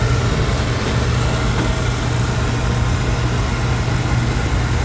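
A Wayne oil burner on a home oil boiler running after firing up, a loud steady roar with a constant low rumble, close and unbroken throughout.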